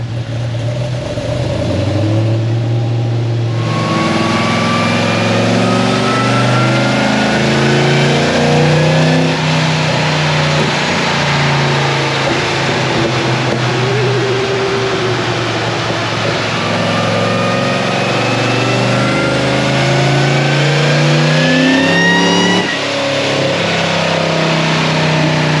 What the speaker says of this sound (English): Spinning on the dyno, ladies and gentlemen.